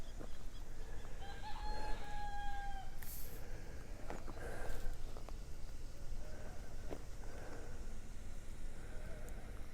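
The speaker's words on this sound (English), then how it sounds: "Can you hear the cock? The cock is crowing." A rooster crows at sunrise on a path outdoors, with several faint, distant crowing calls over quiet ambient background and light rustling.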